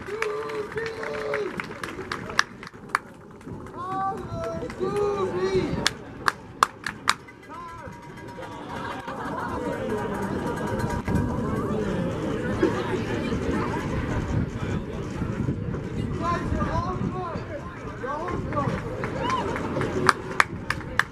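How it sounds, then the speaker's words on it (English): A stadium crowd at a Sacred Heart Pioneers pre-game ceremony against Wagner applauds and cheers the senior football class in a broad, sustained roar, while an announcer's voice carries over it and scattered claps pop out. "Let's give him one more round of applause for the senior class of 2016."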